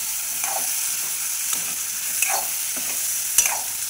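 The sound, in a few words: eggplant curry with masala being stirred and fried on low flame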